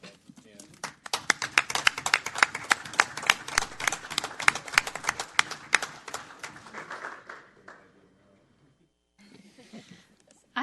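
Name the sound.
applause in a city council meeting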